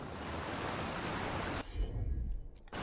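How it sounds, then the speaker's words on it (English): Waterfalls rushing in the video game Dragon Age: The Veilguard, a broad steady roar of falling water that cuts off abruptly partway through, leaving low rumbles and brief faint sounds. "Look at those waterfalls."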